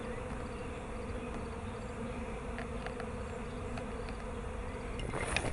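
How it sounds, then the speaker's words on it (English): Swarm of honeybees massed on a tree branch above their hive outdoors, a continuous dense buzzing drone at steady volume with individual bees passing nearby, no talking. "It seemed like the majority of the bees were now on the branch over the hive."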